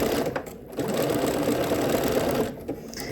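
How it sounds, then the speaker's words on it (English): A sewing machine stitches a swimsuit lining to elastic, a close, continuous whirring run that fills nearly the whole stretch and eases off briefly near the end. "So I'm stitching the lining to the elastic."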